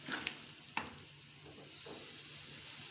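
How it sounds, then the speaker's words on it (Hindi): Chicken korma masala with spices frying in a pot for a dagi-style korma, a steady low sizzle with a couple of sharp spoon clinks against the pan early on, close and fairly quiet, no talking. "अब हम 5 मिनट और इसको भूनेंगे।"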